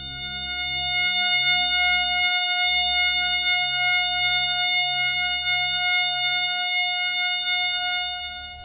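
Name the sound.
synthesized F sharp major chord tone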